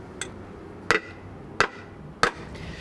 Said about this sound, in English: So beat a bent bottom flat with a hefty mallet, not a hammer